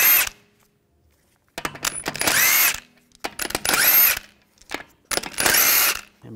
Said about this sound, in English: take these lug bolts out.